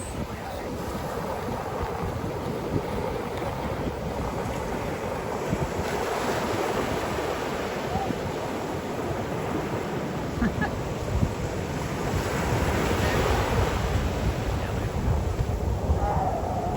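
Ocean waves at a beach roll in a steady, broad rush with heavy wind buffeting the microphone, and the surf swells louder toward the end.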